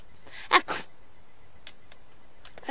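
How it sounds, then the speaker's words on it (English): Two quick sneezes in a row come early, close and sharp, followed by faint scattered clicks and small noises in an otherwise quiet background. "I sneezed, dude."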